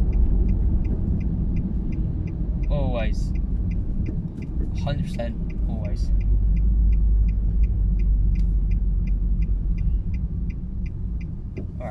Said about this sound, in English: It's busy as usual. There's always traffic here.